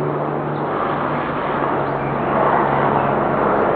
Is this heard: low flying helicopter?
yes